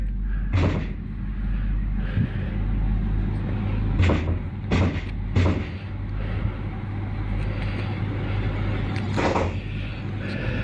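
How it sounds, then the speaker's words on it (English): Several irregular knocks on a door during a purported haunting, sharp separate thuds spaced across a steady low hum, with no voices. "Weirdly, the door started knocking,"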